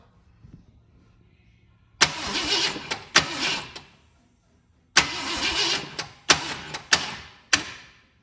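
A 1958–66 Thunderbird engine cranks over by remote starter in several short bursts, some longer and some brief, close and fairly loud, with pauses of near silence between them.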